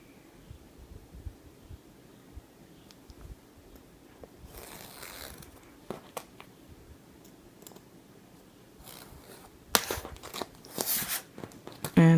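Scissors cutting through a strip of duct tape for a bifold wallet, a few crisp snips and crunchy cuts close up, with loud tearing bursts near the end; no one speaks.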